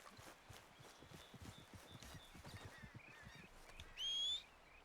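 Horse hooves in Red Dead Redemption 2 clop in a soft, uneven rhythm on the ground, faint and close, with some bird chirps and a brief louder squeal near the end.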